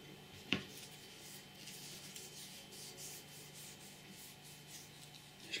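Oil finish being rubbed by hand into a Karesuando bushcraft knife kit makes a soft, close, repetitive rasping swish in even strokes, quiet throughout with a small tap near the start.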